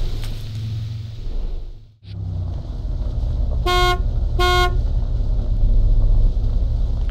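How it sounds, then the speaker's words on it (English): Short double honk of a car horn in the zombie-survival game Days After Infection, two bright toots in quick succession over steady wind and engine rumble. "Honk honk."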